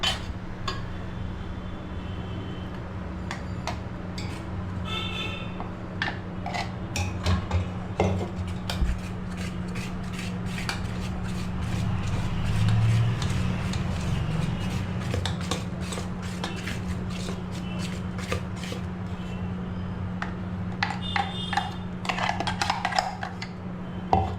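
Banana pancake batter with flour is mixed in a bowl, giving soft repeated scrapes and light clinks of utensil on bowl over a steady low background hum, close and continuous.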